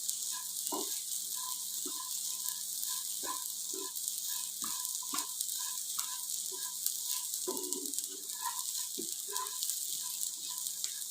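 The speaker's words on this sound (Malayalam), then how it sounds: "ഇനി അത് എടുത്തിട്ട് വെള്ളം തിളച്ച് മറിയണ വെള്ളത്തിലേക്ക് ചെരിയാം." Roasted rice tipped into boiling water hisses and sizzles, with scattered crackles, pops and bubbling bursts over a steady faint hiss, close and fairly quiet, no talking.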